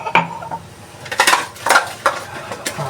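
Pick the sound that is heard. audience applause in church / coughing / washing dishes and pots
washing dishes and pots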